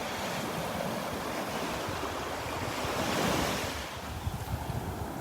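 Ocean waves break and wash steadily on Vanderbilt Beach, a continuous loud surf roar with wind buffeting the microphone and a slight swell toward the end.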